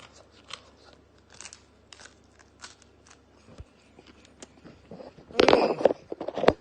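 Someone bites into a fried spicy chicken tender, with a string of small crisp clicks followed by a loud, close crunchy burst near the end.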